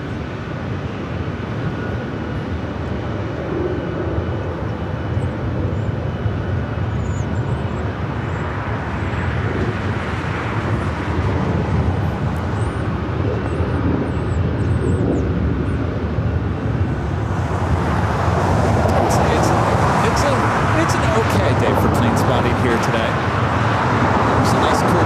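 Jet aircraft roar around Los Angeles LAX airport, a broad steady rumble that swells louder toward the end, with a voice faintly in the background.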